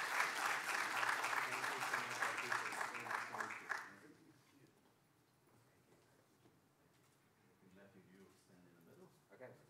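An audience at a Purdue Engineering Fellows ceremony gives a fellow a burst of loud, dense applause for about four seconds, then it fades into quiet room noise with faint voices.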